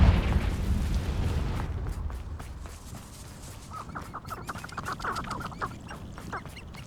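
A Confringo fire spell bursts in Hogwarts Legacy with a deep rumbling blast at the start, then fades into scattered crackling pops and sharp snaps that flicker on for several seconds.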